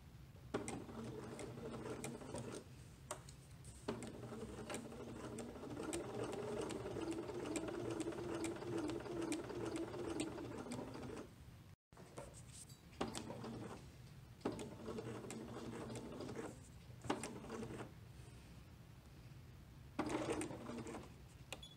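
A sewing machine stitches the seam of a baby dress with a raglan sleeve, running in long steady bursts with two brief pauses, close and clear with no talk.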